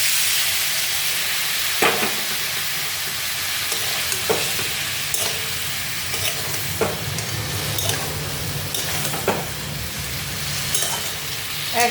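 Spiced cauliflower curry being sautéed in a pan, a steady close sizzle with a hiss of steam, broken by periodic scraping strokes of a spoon stirring the thick masala, no voices.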